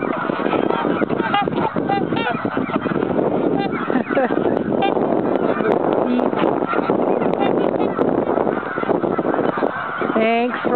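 Geese and swans honking loudly and continuously at an old quarry pond during winter feeding, many birds calling at once close to the microphone, with wind noise underneath.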